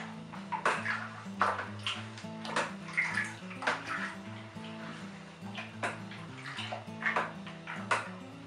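Water running and splashing into a plastic wine kit fermenter while it is topped up to 23 litres, with a steady pouring wash, clinks and knocks of equipment, and no talking.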